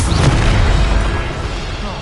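A Bombarda explosion spell goes off in a video game: a deep, sustained boom with a rumbling low-end burst that decays slowly over two seconds, loud and close, with no talk over it.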